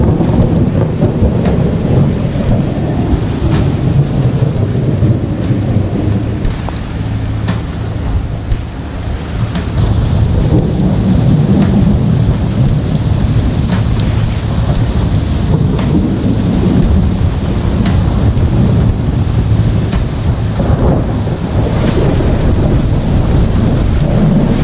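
Rolling thunder rumbles repeatedly through heavy rain in a squall on the open sea in the Strait of Malacca, heard from a yacht, loud and continuous with no voices.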